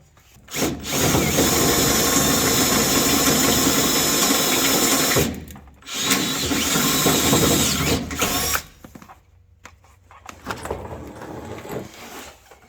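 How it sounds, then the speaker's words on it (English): A power drill whines loudly in long sustained bursts, drilling holes up to 1/2 inch for a hitch on a 1985 Chevy C10, pausing briefly between runs, then quieter intermittent handling noises follow. "I've drilled pilot holes and worked my way up to 1/2 inch."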